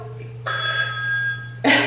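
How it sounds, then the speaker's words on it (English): A telephone rings once in a bursts of steady electronic tone, loud and close over a low constant hum, with a brief rough noise at the end. "Phone is ringing off the hook."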